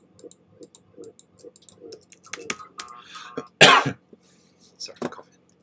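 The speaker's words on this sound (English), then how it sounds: "Sorry for coughing." A single loud, harsh cough bursts out near the middle, surrounded by soft throat clearing and quiet rhythmic clicking, during a Star Wars Galactic Battlegrounds game.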